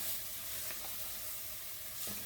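Vegetables sizzle steadily in a gumbo pot while being stirred, a close, even frying hiss throughout with faint scraping touches and no talk.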